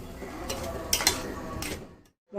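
Spoon stirring coriander, cumin and chili powders into an ivy gourd curry with water, scraping and clinking against the pot in a few strokes before stopping.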